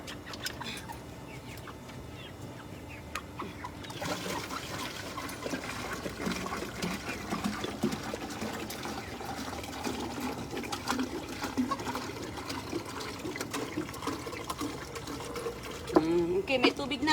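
Running water splashes and gurgles steadily into a container for a long stretch, with outdoor background noise and occasional faint voices.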